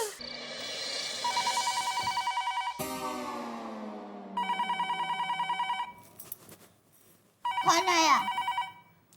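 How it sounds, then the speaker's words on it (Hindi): Telephone ringing late at night in a home, in repeated bursts of electronic trilling rings with a brief pause between them and a short spoken line in between. "इतनी रात गए किसका फोन आया वो?"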